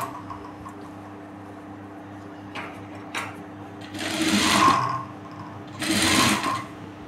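A sewing machine stitches blouse lining in two short runs of steady whirring, the second after a brief pause, with faint clicks and room hum between.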